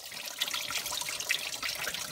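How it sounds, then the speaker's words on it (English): Coolant gushing out of a Ford Mustang oil filter housing as it is removed, a steady close splashing stream of liquid with no talk. "when this removes, you have coolant coming through here for the oil cooler, so you will have a lot of coolant come out"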